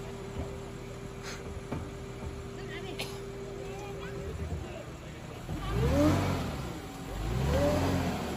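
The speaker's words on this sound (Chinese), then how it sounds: "坦克三百轻轻松上去了" Tank 300 SUV climbing a steep off-road slope, its engine swelling in two loud revving surges near the end after a quieter stretch with people talking in the background.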